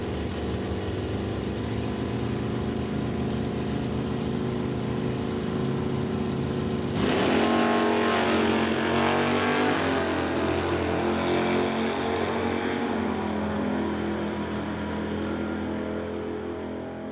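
Drag racing cars, a 1969 Camaro and a 1966 Chevy II, thunder down the strip in a loud continuous engine roar, with a sharp surge and pitch sweep about midway as a car passes close.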